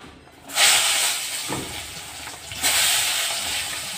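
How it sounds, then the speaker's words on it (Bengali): Eggplant slices, rubbed with salt and turmeric, dropped into hot oil in a home kitchen, a sudden loud hissing sizzle that settles, then a second burst of crackling as more pieces go in. "তেল দেখো গরম হয়ে গেছে। এবার বেগুনগুলো ছেড়ে দিই"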